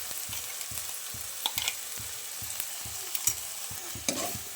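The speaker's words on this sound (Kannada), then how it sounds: "ಇವಾಗ ಈ ಪೇಸ್ಟ್ ಹಾಕಿ ಇದು ಹಸಿ ವಾಸನೆ ಹೋಗೋ ತನಕ ಚೆನ್ನಾಗಿ ಫ್ರೈ ಮಾಡ್ಕೋಬೇಕು." Ginger, garlic and onion paste fries in a pan with tomato while a mushroom gravy cooks, giving a steady close sizzle. A ladle scrapes and stirs in a regular rhythm, with a few sharper clinks.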